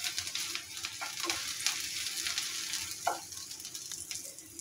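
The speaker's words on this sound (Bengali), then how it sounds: "পেঁয়াজ আর রসুনটা আমার ভাজা হয়ে গেছে" Onion and chopped garlic cloves sizzle in hot oil, a continuous close crackle with a few louder spatters and scraping stirring strokes scattered through it.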